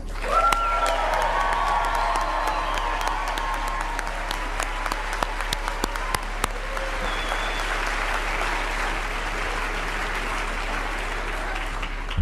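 Sustained applause from a large crowd at NASA's announcement of its 2025 astronaut candidate class, steady and dense clapping throughout, with a few faint cheers rising over it.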